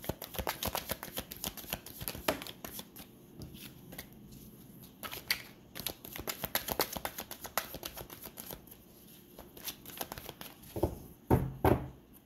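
A deck of tarot cards is shuffled by hand over about twelve seconds, with continuous papery riffling and flicking that comes in bursts, close and fairly quiet, ending in a few sharper taps.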